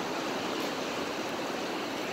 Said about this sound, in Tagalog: Ang laki ng alon, guys.